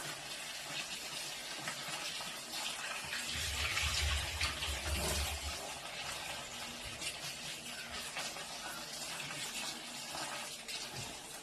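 Running water from a tap pours steadily over star fruit being washed for homemade wine, a constant close splashing hiss that swells briefly in the middle, with no voices.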